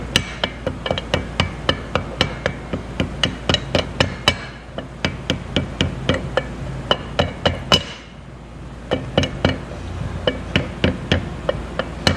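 An engine bearing on a Hodaka motorcycle engine is tapped into its seat with rapid, evenly spaced sharp hammer strikes. There is a brief pause near the middle before the close, ringing taps resume.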